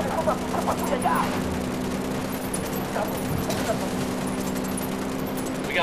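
Bursts of gunfire rattle through a firefight in the open-world shooter Ghost Recon: Wildlands, scattered shots and automatic volleys at mid distance over a constant hum, with voices talking intermittently.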